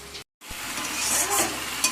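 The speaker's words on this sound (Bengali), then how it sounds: "আমাদের এখানে মশলা কষানো চলছে" Spices sauté in a pan for biryani, a steady sizzle and stirring scrape close up, cut by a brief moment of silence near the start, then continuing evenly with small sharp ticks.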